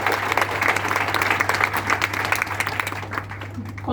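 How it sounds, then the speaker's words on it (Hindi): An audience at a Hindi poetry gathering claps hands together in a brisk, fairly close round of applause that fades slightly toward the end, with a low steady hum underneath. "जी एक बार जरा बजाइए तालियां तो जरा हाथ से।"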